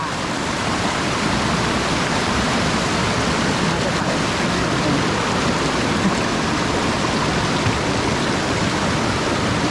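Talea waterfall in Oudomxay, northern Laos, roars steadily with dense broadband rushing water, loud and unbroken throughout, with no other clear sounds standing out.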